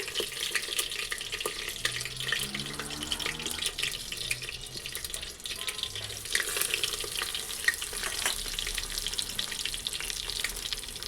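Bay leaf, cumin, cloves, black pepper and cinnamon tempering in hot oil for khichdi, a steady close sizzle with occasional light stirring clinks, continuous and moderately loud with no talk.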